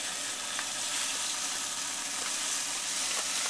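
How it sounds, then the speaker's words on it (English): A steady hiss and crackle as homebrew beer grains are poured into a pot of hot water to steep, continuous and close with a few small clicks. "I am about to add my grains so that they can steep."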